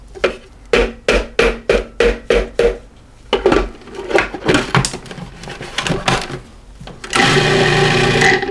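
A food processor pulses garlic paste with lemon juice: about eight sharp, evenly spaced mechanical bursts, a stretch of rattling and clatter, then a loud, steady run of the motor at the end.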